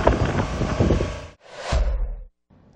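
Strong typhoon winds from Typhoon Pepito tearing at rooftops, a loud, roaring broadband gust that breaks off briefly, surges again, then drops to a faint hiss.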